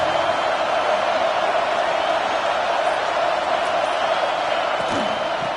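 Stadium crowd in the College Football 26 video game, a steady, loud wash of cheering and roaring that holds evenly throughout without breaks.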